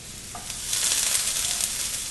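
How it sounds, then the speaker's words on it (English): Chopped onions and garlic sizzle in a hot pan, a soft crackle that swells after a quiet start into a steady frying hiss with a faint clink of stirring. "Now we're going to go ahead and let our garlic cook up"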